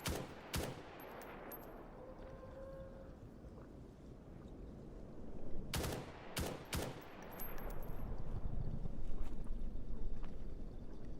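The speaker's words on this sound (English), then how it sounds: "God, I love how accurate this gun is." Groza Storm rifle fire in a shooter video game, short sharp bursts of shots at the start, then two close clusters past the middle over a constant noisy rumble.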